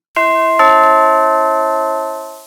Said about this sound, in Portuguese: Ela tocara a campainha de novo.